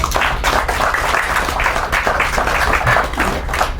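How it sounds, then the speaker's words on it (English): Audience clapping at a classic car show gathering, a steady, dense wash of many hands applauding together for the full few seconds, fairly loud and close, with no speech over it. "I think we should all put our hands together and give the people who make this show happen a really big round of applause."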